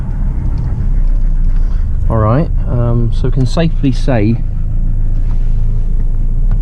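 Low interior rumble of a car being driven, a steady road and engine drone under someone talking briefly in the middle.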